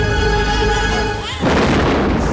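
A grenade blast from the 1997 action film Double Team with Van Damme: tonal music plays, then a sudden loud, broad explosion erupts and roars on for about a second before cutting off.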